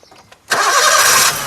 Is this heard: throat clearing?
no